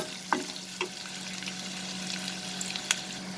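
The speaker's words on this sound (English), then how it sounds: "I'm going to saute the onions till it becomes little translucent." Onions sautéing in a pan for a prawn and sponge gourd curry give a steady, moderate sizzle, broken by a few soft stirring knocks and scrapes.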